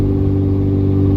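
A 5.9 Cummins diesel truck engine with 50hp injectors and a custom tune pulls under steady throttle while towing, producing a loud, constant low drone with no break across the clip.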